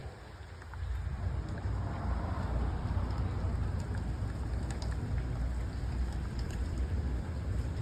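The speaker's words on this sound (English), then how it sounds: "look at all this rain, bro." Steady rain falls outdoors as a dense, even hiss that swells in after the first second and holds without a break, with no talk over it.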